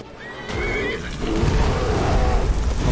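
A horse in the video game Skyrim neighs loudly and close, a rising whinny followed by snorting amid rumbling game noise and hoofbeats.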